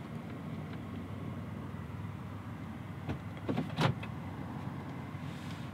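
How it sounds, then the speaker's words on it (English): A rear power window on a 2019 Toyota 4Runner Limited whirs briefly and close by, a short electric motor hum in an otherwise quiet cabin. "this is for your power window in the back, your back window"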